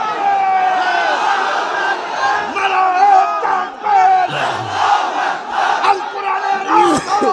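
Large crowd roaring a takbir response in unison at an Islamic religious sermon gathering, a sustained mass chant of many voices lasting several seconds, loud and close.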